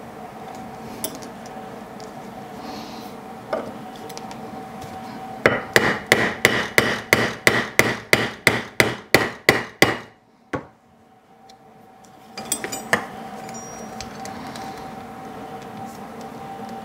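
A hammer strikes a new shop anvil, a fast even run of about fourteen sharp ringing blows, a few lighter taps before and after, close and loud, no talk.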